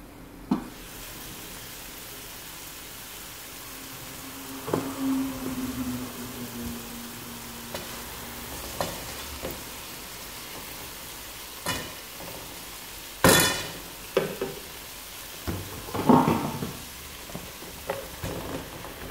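Mixed vegetables, including cabbage and eggplant, cook in a pan for a sauce, giving a low, steady sizzle with scattered stirring scrapes and a few sharper clatters of utensil against pan.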